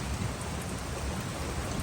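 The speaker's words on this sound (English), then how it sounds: "I love the rain." Heavy rain pours steadily over a garden or farm, a dense, loud wash of drops hitting surfaces with a deep low rumble beneath that could be distant thunder, continuous and without voices.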